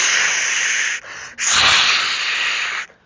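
Breathy, hissing whoosh from a voice imitating wind, two long blown gusts with a short pause between, close and fairly loud.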